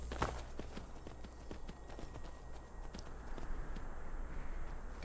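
Horse hooves clip-clop in the video game Skyrim, a quick uneven run of close hollow thuds over a low steady game ambience, the pace picking up toward the end.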